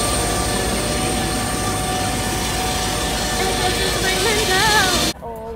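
A steady, loud drone of airplane engines fills the passenger cabin before takeoff. Faint voices can be heard under it until it cuts off abruptly near the end.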